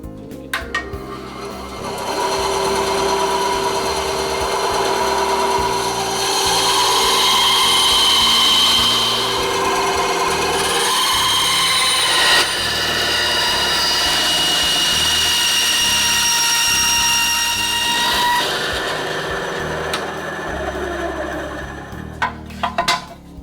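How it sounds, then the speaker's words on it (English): A bandsaw cuts knife handle scales, a loud close-up whirring blade whine that rises and shifts in pitch as the material feeds through, running continuously for about twenty seconds with a few clunks at the end. "Now the bandsaw is a very handy tool. Makes it a lot easier to cut these out."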